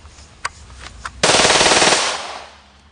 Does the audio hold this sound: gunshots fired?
yes